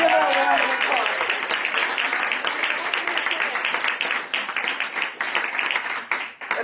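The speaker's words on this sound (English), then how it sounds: "So give her a round of applause." An audience at a Women's History Month event applauds, a dense wash of clapping that starts loud and slowly thins out into scattered claps.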